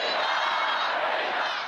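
Hundreds of party faithful gathered around Iran's president shout in a dense, sustained roar of angry voices, loud and continuous with no single voice standing out.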